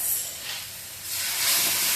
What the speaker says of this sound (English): I'm gonna add a cup of boiling water to that.